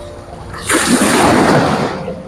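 Ocean waves washing in at Qurum Beach on a rising tide, a broad rushing surge that swells in after a moment, holds for over a second, then eases back against a steady surf backdrop.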